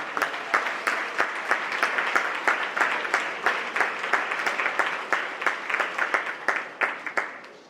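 A group applauds at a school event, the clapping brisk and continuous, then thinning into fewer, louder individual claps as it winds down.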